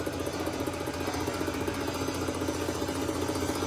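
A New Holland 3630 Special 4x4 tractor engine with a newly fitted fuel pump runs loud and close in a steady, rumbling diesel drone with no pauses.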